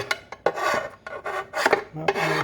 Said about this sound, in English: Just scrape the sump.